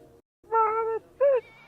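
Two distinct cat meows, the first drawn out and the second shorter and rising, close and fairly loud against a quiet background.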